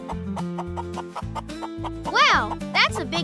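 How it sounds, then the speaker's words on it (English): Chickens clucking near a farm coop, a few rising squawks standing out over a bouncy children's song with sung and spoken voices on top. "Look at the chickens pecking by the coop."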